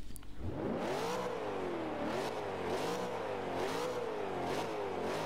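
VW Beetle fitted with a 5.7 litre V8 in Forza Motorsport 5, revving hard in a loud, continuous engine roar that climbs through gears with brief dips at each shift.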